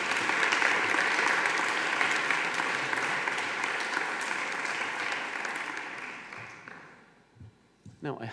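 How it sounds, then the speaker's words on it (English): Warm, sustained applause from an audience at an MBA graduation ceremony, dense clapping that holds steady and then gradually fades out, followed by a brief moment of talk. "A round of applause for everybody allowing you to be with us."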